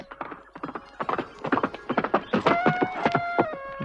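Horse hooves clip-clopping at a steady walking rhythm, loud and close, as a sound effect in a Hindi folk tale about a prince riding his horse, with a faint whinny-like tone near the end.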